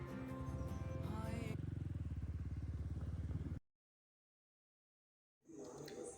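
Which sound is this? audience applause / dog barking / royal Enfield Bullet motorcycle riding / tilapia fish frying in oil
royal Enfield Bullet motorcycle riding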